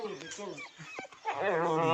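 A village dog gives short whimpering yelps and barks up close, mixed with people talking and a voice around it.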